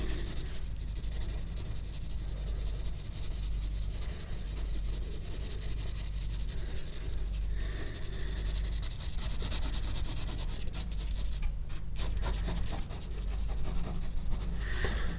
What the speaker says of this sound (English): you gotta get that rub and just rub out those mistakes and just work over them